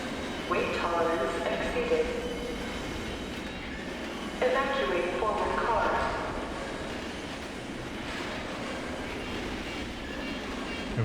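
A tram rolls and rumbles along its track in the game F.E.A.R. 2, a steady mechanical drone with rising metallic clatter bursts, heard under game voices and alarm announcements.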